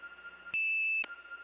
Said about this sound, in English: you might have noticed a little ringtone right as the operator was answering